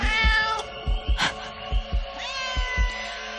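A cat meows repeatedly, drawn-out and clear, over a steady rhythmic low thumping like a heartbeat, at a mountain campsite.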